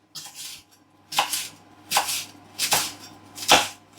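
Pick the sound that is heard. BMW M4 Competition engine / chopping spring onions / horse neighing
chopping spring onions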